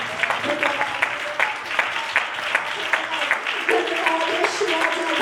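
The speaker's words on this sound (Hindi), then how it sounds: "सभी जन ताली बजाकर उस परमेश्वर का धन्यवाद करें।" A church congregation claps together in thanksgiving during a service, with steady overlapping applause heard alongside a speaking voice.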